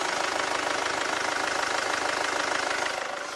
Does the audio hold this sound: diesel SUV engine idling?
yes